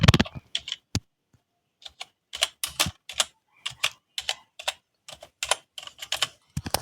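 Keyboard typing entering a search into the Play Store on a PC, heard as quick bursts of clicking keystrokes separated by short pauses, close and clear with no speech.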